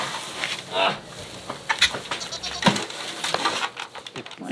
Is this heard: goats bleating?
yes